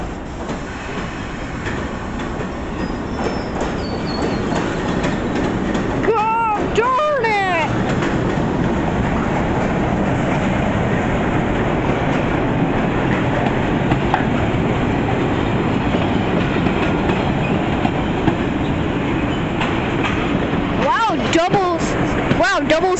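MBTA subway train at JFK/UMass station, a steady rumbling hum of cars on the track with faint rail squeals and clicks, loud and close throughout, with talk in the background.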